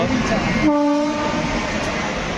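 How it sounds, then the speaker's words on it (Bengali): A railway locomotive engine runs past near a crowd gathered to collect Saraswati idols, its steady rumble filling the scene while a single sustained horn blast rings out for about a second in the middle. "ও এটা ট্রেন না, এটা ইঞ্জিন একটা।"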